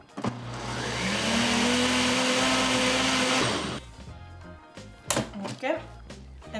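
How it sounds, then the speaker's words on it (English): A blender whirs through pancake batter ingredients with chia seeds and flaxseed, running at a steady loud whine for several seconds before stopping, followed by clinks and handling noises with a voice talking. "we're gonna blend it one more time in this one"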